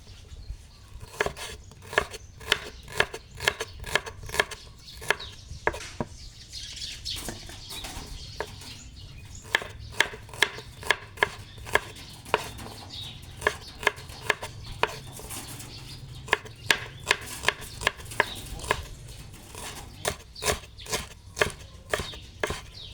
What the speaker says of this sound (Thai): ต่อไปก็ซอยหอม